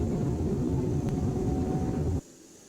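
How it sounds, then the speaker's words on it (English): Hydraulics lowering the flaps to flaps 1 on a JARDesign A330 in X-Plane, a steady loud mechanical whir and hum that runs for about two seconds, then cuts off abruptly into near silence. "the front spoilers still continue moving after the sound of the hydraulics have finished"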